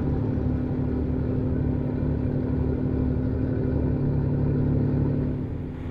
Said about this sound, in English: You think it sounds accurate to the Ram 3500, the Cummins in it?